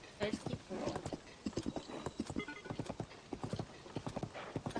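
Horse hooves clip-clopping steadily along a road in Zelda: Tears of the Kingdom, an even, close rhythmic gait with a brief whinny near the start.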